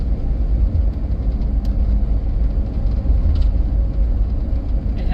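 A 2003 Hummer H2 truck climbs a hill, its engine giving a steady, loud low rumble that stays even and continuous throughout, with no talking over it.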